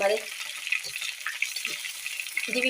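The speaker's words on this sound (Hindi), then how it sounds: "इसको हमने 2 से 3 मिनट तक एक साइड से फ्राई किया था" Chicken thighs sizzle and fry in a pan, a steady bright crackle with occasional stirring scrapes, close and continuous throughout.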